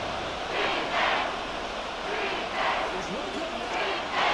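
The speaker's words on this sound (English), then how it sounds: "The Arrowhead crowd in full roar" A stadium crowd at Arrowhead in a Madden 24 football game between Kansas City and Philadelphia roars in steady swelling waves, loud and broad, with no clear voice standing out.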